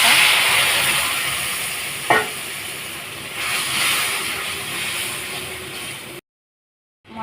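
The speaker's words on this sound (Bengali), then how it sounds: "মশলাটা ভাজা হয়ে গেছে।" A spice paste of turmeric, chili and salt mixed with water sizzles and hisses steadily in a hot pan for a tengra fish recipe, with a brief stir or scrape partway through, then it cuts out.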